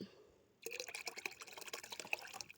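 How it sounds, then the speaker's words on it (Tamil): Liquid homemade plant fertilizer solution is poured into a container of water for a terrace garden, a soft splashing, gurgling stream that starts after a quiet moment and continues steadily. "இதில் கொஞ்சம் ஊற்றுங்க"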